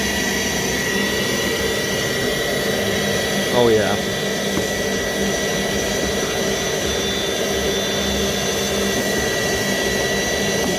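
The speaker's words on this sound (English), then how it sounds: "let's go ahead and vacuum this out and see how it looks" Vacuum cleaner sucking chips out of a Carvera Air CNC machine, a steady whining, hissing suction drone with a brief rattling burst partway through, and someone speaking briefly over it.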